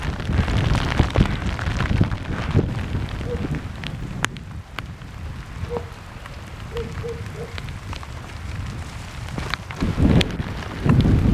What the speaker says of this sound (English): It is raining like crazy now.